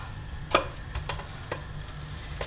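Pancake batter frying in a pan while being pressed flat, with a soft continuous sizzle and a few faint scrapes and taps over it.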